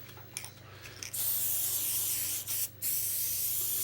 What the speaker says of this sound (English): Now you're noticing I'm spraying the whole top of this.